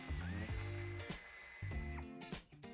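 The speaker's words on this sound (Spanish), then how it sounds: "Retiraremos la tuerca." A power tool or drill whirring in short bursts while a nut is removed from the antenna mount of a 2023 Volkswagen T-Cross, close and steady with brief pauses between runs.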